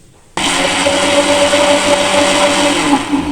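Electric kitchen blender grinding raw green mango sharbat with black pepper and black salt, starting abruptly after a brief quiet moment and then running as a steady, loud, close whirring drone with a constant motor whine.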